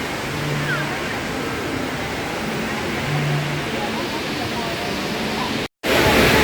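Steady roar of a waterfall's rushing water, broad and continuous at moderate loudness, with a brief dropout near the end before the rush resumes louder.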